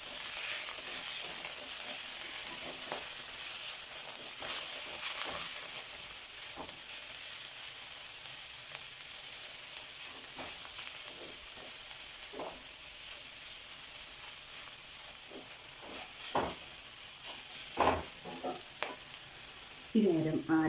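Chayamansa thoren frying in a pan, with a steady soft sizzle throughout and irregular scraping taps of a spoon stirring the greens, quiet and close, a little louder near the end.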